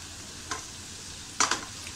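Rice being stirred and fried on a tawa for street-style pulao, giving a soft low sizzle broken by a couple of quick scraping utensil strokes against the pan.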